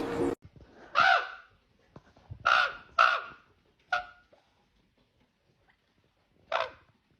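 A pet bird gives several loud, harsh caw-like calls close by, four bursts in quick succession followed by one more after a pause, with no talking.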